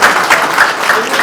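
An audience at a social event in Rani Bagh with MP Praveen Khandelwal breaks into loud, close, steady clapping that fills the short moment.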